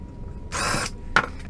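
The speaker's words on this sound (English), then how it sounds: "I'm going to drill the holes from the top side so they'll be in the perfect spot." A power drill whirs briefly down into the top side of a wooden piece, then a second short burst follows after a pause, both close and fairly loud.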